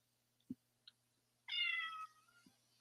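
A cat gives one clear, fairly loud meow, preceded and followed by a few soft taps and clicks in an otherwise quiet room at night.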